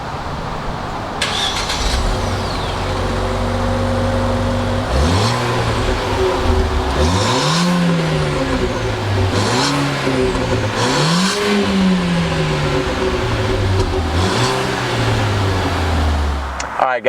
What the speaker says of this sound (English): let's go ahead and start up this EcoBoost engine